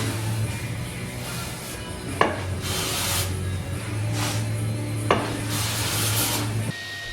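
Rimu wood for a floating vanity, smoothed by hand with an abrasive in steady, close rasping strokes, with a few sharper knocks at the ends of passes and no talking.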